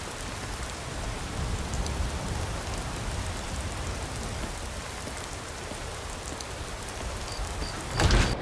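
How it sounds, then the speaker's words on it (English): Storm rain pounds steadily on the roof tiles of an inn in a fantasy video game, a dense, even wash of drumming drops that holds close and loud throughout, with a brief louder rumble near the end. "You could hear the storm pounding on the roof's tiles above our heads as we entered the inn."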